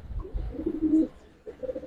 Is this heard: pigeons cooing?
yes